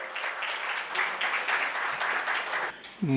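An audience at a book launch claps steadily for a speaker for about three seconds, then the applause fades out and a voice starts.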